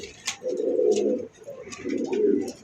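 Pigeons at a pigeon farm give two low, rolling coos in close succession, near and clear, with faint chirps and rustles around them and no talk.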